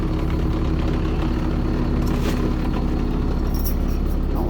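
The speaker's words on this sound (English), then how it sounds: "Engine is on, that's why you hear a little bit of shaking." The engine of a 2007 Fleetwood Discovery 39V motorhome idles with a steady low rumbling drone, heard from inside the coach with a faint rattle and no talking.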